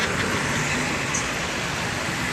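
A Sari Mustika bus passes on the road, heard as a steady, loud roar of roadway traffic and engine noise close by.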